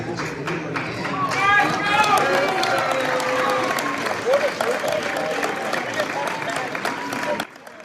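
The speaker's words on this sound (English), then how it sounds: "it took about 20 seconds for people to start clapping there" A room of people claps and murmurs after Boise State's selection is announced, with steady applause under overlapping voices that fades out at the end.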